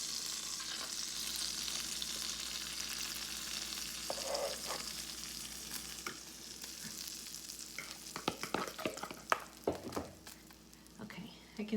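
Mexican cornbread batter fries in a pan with a steady, soft sizzle, and scraping and stirring clicks grow more frequent toward the end while a quiet voice talks.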